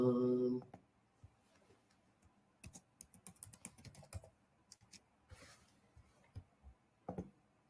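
Keys clack on a computer keyboard as a password is typed, in an irregular run of close, crisp keystrokes with short pauses. A brief voice-like burst comes at the very start.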